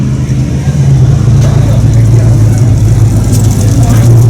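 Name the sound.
modified car engine with cam and double pumper carburetor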